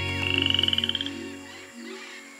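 Poison dart frogs in a forest give a fast, close, high-pitched croaking trill of about a dozen quick pulses that stops abruptly, with a faint hum behind it.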